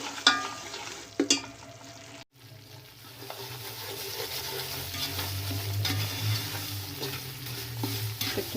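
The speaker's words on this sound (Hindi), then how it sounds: "तकरीबन 10 मिनट तक मैं इसको भूनती जाऊंगी" Semolina roasts in ghee for sooji halwa, a soft, steady sizzle under scraping stirs, with a few sharp clinks of the spoon against the pan early on.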